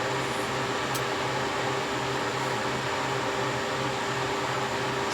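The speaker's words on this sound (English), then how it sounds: "let the freeze dryer do its thing" A freeze dryer runs while drying raspberries, strawberries and peas, giving a steady, loud hum with a constant whirring drone and a faint low pulsing throb throughout.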